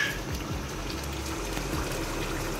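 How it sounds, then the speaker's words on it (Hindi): About 500 ml of water poured into frying masala for Old Delhi-style lauki kofta gravy, a close gushing splash over a low rumble, steady throughout with no voices. "अब हम इसके अंदर पानी डालेंगे। ये देखिए 500 मिलीलीटर के आसपास हमने पानी डाल दिया"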